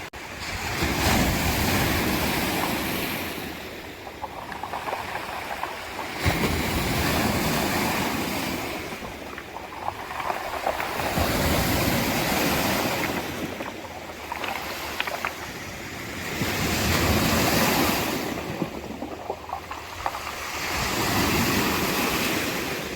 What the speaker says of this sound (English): Sound of the rocks when they tumble back in, when the waves recede, it just makes my heart smile.